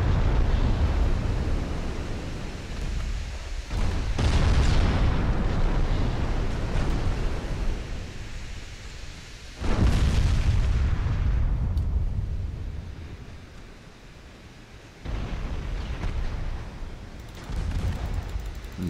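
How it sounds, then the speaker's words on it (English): Six-inch secondary battery naval guns firing in a war video game, heavy booming blasts with long rumbling decays, several shots in succession at loud, close range. "Immediately hit it with the 6-inch secondary battery."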